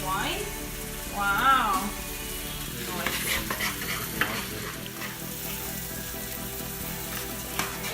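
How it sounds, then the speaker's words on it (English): Red pepper and onion fry in a skillet with a steady, close sizzle and some stirring, while a voice speaks briefly over the cooking. "Throw this red pepper in the skillet with the onion."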